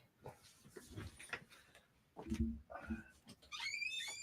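A dog whimpers in short, high, wavering whines that rise near the end, heard over intermittent talk and household movement.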